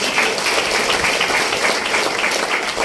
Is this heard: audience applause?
yes